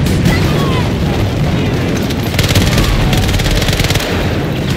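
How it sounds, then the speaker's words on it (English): Battlefield 2042 combat rages with a dense, loud wall of rapid gunfire and booming blasts, a grenade explosion blending into continuous machine-gun bursts close by. "Grenade out!"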